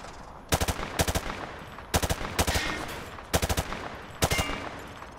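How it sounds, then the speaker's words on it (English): Weapon firing at targets in Call of Duty: Modern Warfare 2 Campaign Remastered, about six short bursts of three or four rapid shots each with brief gaps between, loud and close, no talking. "Grab that weapon off the table and fire at the targets behind you."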